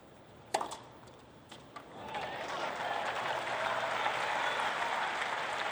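A tennis crowd at the 2016 US Open fourth-round match between Karolina Pliskova and Venus Williams breaks into applause after a couple of sharp knocks, swelling into a sustained, fairly distant roar of clapping.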